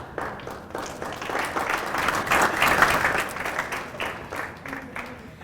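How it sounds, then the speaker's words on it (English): An audience at a college alumni awards ceremony applauds steadily, the clapping swelling to a peak midway and then thinning out toward the end. "do we clap for the prayer?"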